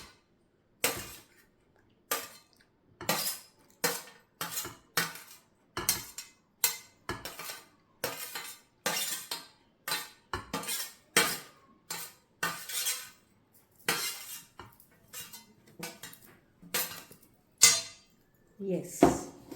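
A spoon stirs a homemade lunch salad in a bowl, sharp metallic clinks and scrapes repeating steadily and close for a long stretch, with a brief break near the end and no speech.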